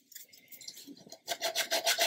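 Coarse nail file rasping across the wooden hull of a 1/64 scale HMS Fly model ship: light scratchy strokes at first, then a run of louder, quick rhythmic back-and-forth rasps close by.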